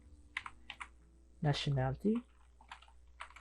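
Keystrokes on a computer keyboard while entering Java code, scattered light clicks before and after a person speaks briefly over them.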